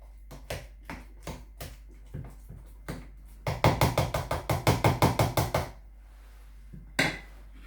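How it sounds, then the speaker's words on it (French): A utensil knocks against a pot while food is stirred: sparse, evenly spaced taps at first, then a faster, louder run of clacks, a pause, and one final knock, all close and with no talking. "on va essayer de bien remuer un petit peu"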